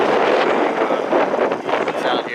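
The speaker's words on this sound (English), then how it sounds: "it's very, very windy." Strong wind buffets a microphone outdoors at the Amelia Island Concours car show, a loud, continuous roaring rumble that surges and dips over the brief moment, with speech faintly under it.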